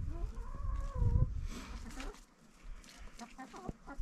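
A rooster clucks and calls on a livestock farm in a Turkish village, close and fairly loud, with a few short bursts of other farmyard noise.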